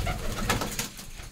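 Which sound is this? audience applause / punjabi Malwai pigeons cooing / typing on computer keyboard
punjabi Malwai pigeons cooing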